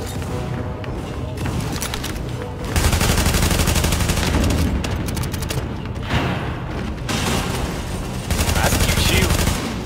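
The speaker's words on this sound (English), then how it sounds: "I'm shooting him." Sustained heavy gunfire and overlapping shots in The Division video game, loud and continuous with surging volleys, with faint talk underneath.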